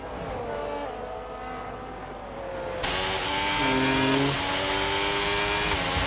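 A tight pack of Formula 1 race cars in a video game race at Miami, engines droning steadily with a sharp tonal rise as another car passes close by; no voices.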